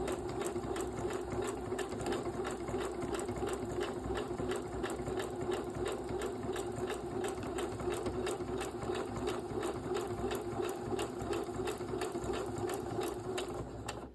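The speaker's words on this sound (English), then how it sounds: "Now I'm quilting the front of my coat." A sewing machine fitted with a free motion couching foot quilts the front of a coat, running with a steady, rapid mechanical whir and needle chatter that is loud, close and unbroken throughout.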